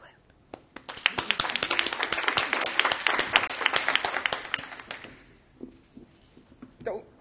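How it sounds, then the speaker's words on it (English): A conference audience claps at DrupalCon Barcelona 2015, with a dense burst of applause building quickly, holding for several seconds and then tapering off into scattered claps and a few voices. "now everybody clap"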